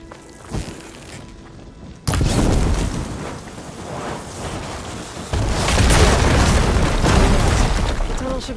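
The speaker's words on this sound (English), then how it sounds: "I should be able to blow this up to clear the debris." An explosion blasts apart debris blocking a tunnel in Horizon Forbidden West: a sudden loud boom cuts in, followed by a long rumbling roar of falling rubble that surges again near the end.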